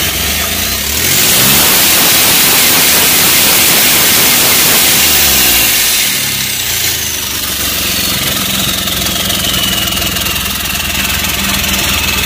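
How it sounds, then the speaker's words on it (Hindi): An Ashok Leyland Dost truck engine with a jerking problem and a pinched air filter pipe is revved hard, a loud continuous roar that swells and holds, then drops back to a steadier mid-pitched run. "ये जर्किंग का प्रॉब्लम है, इसको रेस कर रहे हैं।"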